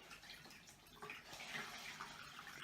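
A wet cleansing mitt is wrung out during a facial skincare routine, giving a faint, soft trickle and splatter of water running off the cloth, quiet and close, with no talking.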